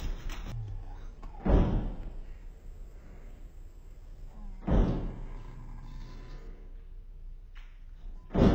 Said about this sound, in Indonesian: Pintu di dekat lampu itu kebanting dan kebuka layaknya pintu yang ada di basement.